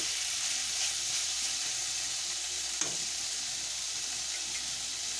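Small chiti crabs in masala fry in a pan, a steady close hiss of sizzling with one brief clink partway through.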